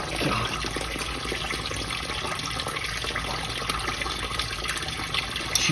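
Fluid draining from the drain plug hole of an abandoned 1970 Dodge Charger that sat for 39 years, a soft continuous splashing trickle into a catch pan, faint and steady throughout with no talk.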